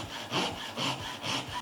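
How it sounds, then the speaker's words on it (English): A hand saw cuts dovetail tails in wood held in a vise, giving close, rhythmic rasping strokes, about four back-and-forth passes in under two seconds, with no talk. "saw with your left hand, or alternatively, just flip it around in the vise like that, and you can still use your dominant hand to cut down those tails."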